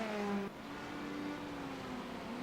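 Porsche GT3 race car in a racing video game accelerating hard out of a corner at VIR, a loud engine whine climbing steadily in pitch down the straight after a quick gear change near the start.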